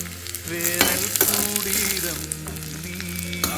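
A tempering of spices sizzles in a pan for a Kerala-style egg curry: a loud, continuous hiss and crackle with a few sharp pops. A song plays under the sizzle.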